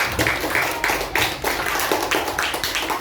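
A group of people clap for a presenting team in a classroom-style session, a brisk run of loud, slightly uneven claps lasting a few seconds with no talking.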